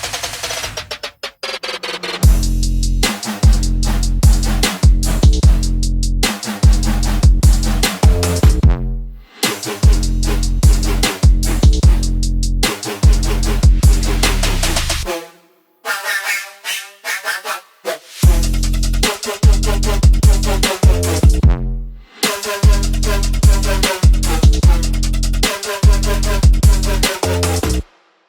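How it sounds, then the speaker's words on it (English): Loud trap and future bass electronic track with booming bass, punchy drums and bright synth chords in driving bursts, broken by a short quieter breakdown before the beat drops back in. "a track I made using the Spinnin Records new trap and future bass sample pack"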